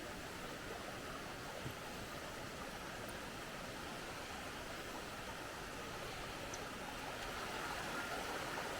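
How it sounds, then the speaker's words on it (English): A river rushes through Mossman Gorge in tropical North Queensland, a constant, even broadband water hiss heard from a distance, faint and unbroken. "Nice little river down there"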